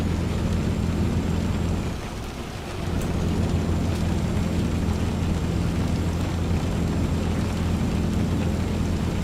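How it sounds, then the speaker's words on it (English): Dense, steady rainfall in the video game Euro Truck Simulator 2 hissing continuously with a low rumbling undertone, briefly dipping in loudness before resuming its even downpour. "It's raining cats and dogs,"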